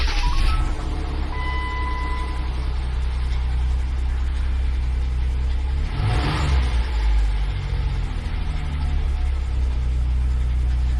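A vehicle engine is started and then idles in a steady low rumble with a brief swell of revving partway through, heard close up with no talking.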